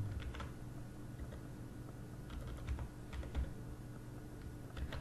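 Quiet, rapid tapping on a computer keyboard as HTML code is typed, clicks coming in quick irregular bursts over a low background hum, with no talking.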